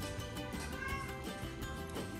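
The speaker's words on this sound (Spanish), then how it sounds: "¿Se oyen que llora un gatito por allá?" A kitten cries and meows repeatedly in the distance, its faint, insistent calls coming in a steady series beneath a low background hum.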